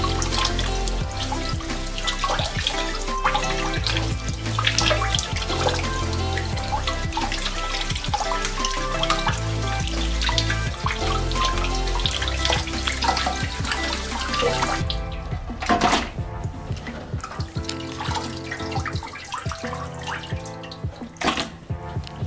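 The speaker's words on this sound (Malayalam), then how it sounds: "ഇതിപ്പോൾ ഒരു 3-4 തവണ കഴുകി എടുത്തിട്ടുണ്ട്." Tap water runs steadily into a sink while clams are washed, a constant splashing stream with clattering shells, then the flow eases into looser trickles and drips near the end, with no talking.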